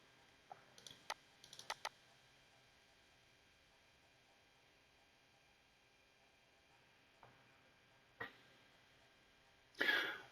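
A computer mouse gives a few faint, sharp clicks in quick pairs, like double-clicks, in a quiet room. Later there are a couple of soft isolated knocks and a brief louder rustle.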